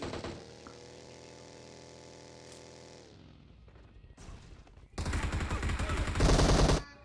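Gunfire from a teammate giving cover fire in the battle royale game BGMI on the Erangel map, with rapid bursts of loud shots coming in dense volleys near the end after a quieter stretch.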